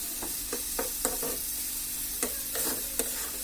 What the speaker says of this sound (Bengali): এখন যে শুটকিগুলো আছে ধুয়ে রাখা সেটা দিয়ে দিচ্ছি